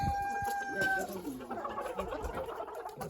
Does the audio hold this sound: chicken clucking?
yes